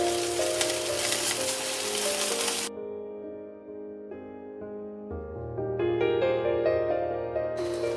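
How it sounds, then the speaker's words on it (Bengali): Ginger and garlic fry in oil while being stirred, giving a dense close sizzle that drops away midway to a quieter tonal hum, then the frying noise returns. "এটাকে ভালো করে নাড়িয়ে নেব আদা রসুনটাকে"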